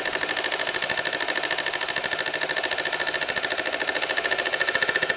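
A Milwaukee M18 FQID2 impact driver runs steadily up close, giving a rapid, evenly pulsing mechanical hammering that holds a constant rhythm throughout.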